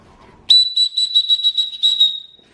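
Sharp, piercing whistle from a backpack's built-in safety whistle blown in a rapid series of short, shrill blasts, very close and loud, after a brief quiet moment.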